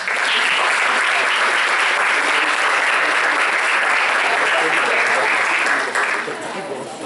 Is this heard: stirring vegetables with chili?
no